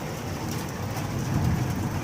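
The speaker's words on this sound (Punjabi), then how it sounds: "ਦੇਖੋ ਕਿੰਨਾ ਜ਼ਿਆਦਾ ਪੈਣ ਡਿਆ ਮੀਂਹ" Dense, steady rush of heavy rain pouring down, a continuous broad roar with no voices.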